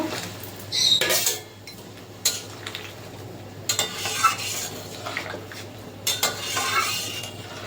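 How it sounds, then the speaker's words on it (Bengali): Fried prawns go into a pan of boiling curry gravy for prawn malaikari, with utensil clinks, scraping stirs and bursts of bubbling sizzle coming and going close by. "ঝোল ফুটে গেছে এবার ভেজে রাখা চিংড়ি মাছগুলো দিয়ে দেবো"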